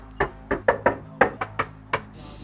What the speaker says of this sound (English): let's go knock some doors